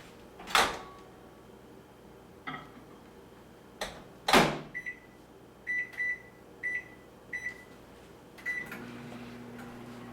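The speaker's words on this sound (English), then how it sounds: "I'm going to get that started in the microwave" A kitchen microwave oven is started to heat water: sharp clicks of the door and keypad, a string of short beeps, then the low steady hum of the oven running.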